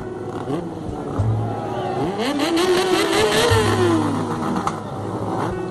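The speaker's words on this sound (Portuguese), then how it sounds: "Ele vem acelerando, o Chico aqui no final da pista" A Yamaha R6 600cc sport motorcycle accelerates along a race track, its engine note climbing steadily in pitch before easing off, heard over steady crowd and track noise with a voice talking faintly underneath.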